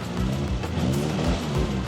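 The engine of a restored Triumph car revs close by, with a rough, throbbing idle rising in repeated blips of throttle, loud and alone without talk.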